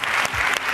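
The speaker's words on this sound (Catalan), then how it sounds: "Aplaudiu a la Clara" Studio audience applauding a councillor named Clara on a TV quiz show, a brief, dense wash of clapping from a crowd.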